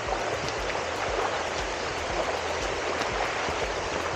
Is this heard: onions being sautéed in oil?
no